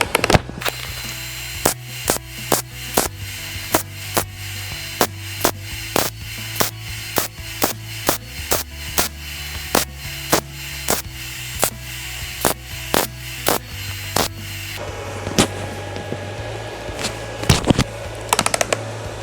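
Short bursts of tack welding on metal to fill gaps while repairing a "W", a steady train of sharp crackling pulses repeating about every half second, loud and close, with a steadier hissing buzz near the end.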